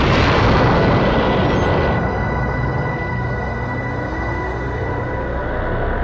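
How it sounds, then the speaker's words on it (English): The explosion of Planet Namek in Dragon Ball Z's anime roars as a loud, sustained blast, fading slightly while a dense rumbling wash continues throughout. "Frieza tries to take out his enemy by destroying Planet Namek with a small sphere of energy that goes right into its core"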